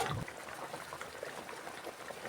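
Thin fish curry with fish pieces simmering in a pot, a soft bubbling and gurgling of liquid that continues steadily at low volume.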